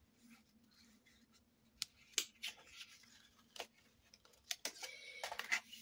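Scissors snip paper in short crisp cuts during scrapbook album crafting, a handful of sharp clicks spaced irregularly, close and fairly quiet against a hushed room.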